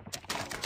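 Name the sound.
magazine reload in video game Call of Duty Mobile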